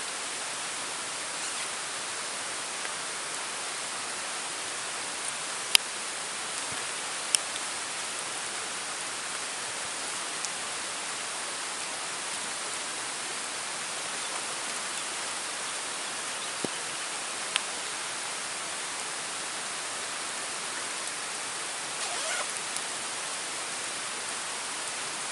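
Steady rain falling during a hike, an even hiss throughout with a few scattered sharper drops and ticks, moderately faint and with no voices.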